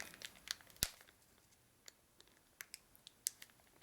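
A plastic eBay package holding plastic hammers is handled and opened at close range, with quiet scattered crinkles, ticks and a few sharp clicks against a near-silent background.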